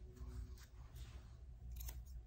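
Scissors trim a Yorkie's face hair near the ear, giving soft close snips in a quiet room, a few brief crisp cuts spaced apart.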